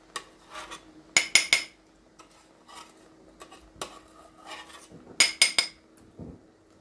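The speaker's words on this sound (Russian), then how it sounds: "Пеночку мы снимаем." A metal spoon scrapes and clinks against a pot while foam is skimmed off simmering plum jam, several sharp close clatters and rasping scrapes in irregular bursts separated by quieter gaps.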